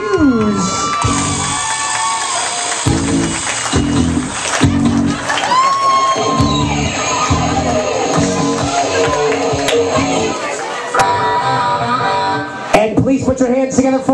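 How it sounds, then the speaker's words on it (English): Wedding guests at the Wachusett Village Inn reception cheer, whoop and shout loudly as the bridal party is introduced. The dense, excited crowd noise holds steady for about fourteen seconds with brief dips. "A nice round of applause for our bridesmaid Erin Bannon, escorted by Usher Joseph Hughes"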